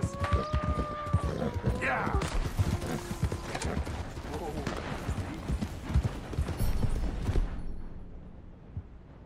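Horse hooves clip-clop at a riding pace in Red Dead Redemption 2, a steady galloping patter mixed with gunfire, a whinny and game music, with a voice talking over much of it before it thins out near the end.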